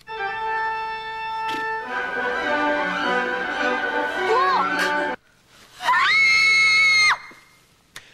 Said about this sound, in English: Why is it always the girls who scream and point?